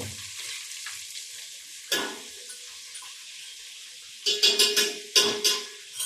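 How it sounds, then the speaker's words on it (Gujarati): Masoor lentils are tempered in hot oil, giving a continuous close sizzle with soft stirring, then several loud, quick sizzling bursts near the end as the spoon works the pan. "અહીંયા મમ્મી ભાજીનો વઘાર કરે છે, મૈસૂરનો"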